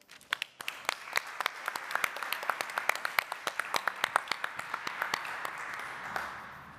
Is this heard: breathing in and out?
no